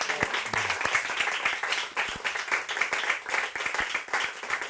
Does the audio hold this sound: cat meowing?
no